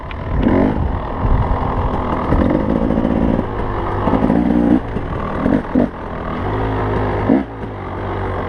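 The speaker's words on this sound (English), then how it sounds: "I'm going to pull away off the rear brake, holding the rear brake, clutches in, and away you go." A two-stroke motorcycle pulls away from a standstill, its engine loud and close with a steady, buzzing drone and uneven surges of revs throughout.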